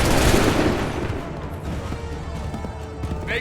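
Musket volley in an Assassin's Creed 3 battle: a loud crackling burst of massed shots at the start that decays into scattered pops and battlefield clatter.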